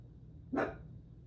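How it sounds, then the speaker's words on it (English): A single sharp dog bark rings out close by in an indoor room, one brief loud burst over a low steady background hum. "My dog's just barking."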